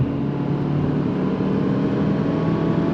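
A 2024 Hyundai Elantra N-Line engine pulls hard in second gear toward 6,500 RPM, a steady droning hum heard from inside the cabin, continuous and fairly loud with no talking.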